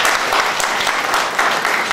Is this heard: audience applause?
yes